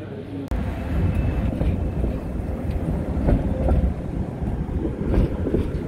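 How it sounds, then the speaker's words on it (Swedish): A tram passes along a Riga street near the large indoor market, a steady low rumble lasting throughout with wind buffeting the microphone, after a sharp knock near the start. "Random spårvagn."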